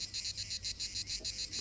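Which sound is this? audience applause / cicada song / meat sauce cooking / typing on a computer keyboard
cicada song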